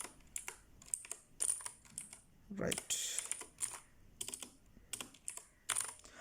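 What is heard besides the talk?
typing on a computer keyboard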